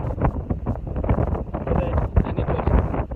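Wind blows across a farm during the rainy season, buffeting the microphone with loud, continuous, gusting rumbles that rise and fall throughout.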